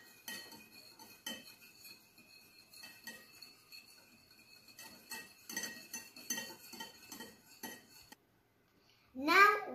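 Cutlery clinks and scrapes in a bowl as play dough ingredients are stirred, soft and irregular, while a child babbles nearby; a short silence near the end is followed by a high voice.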